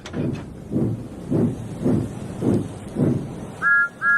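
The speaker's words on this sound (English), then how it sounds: "Then he heard a whistle." A steam train chuffs in slow, regular puffs, then a short two-note whistle sounds twice at the end.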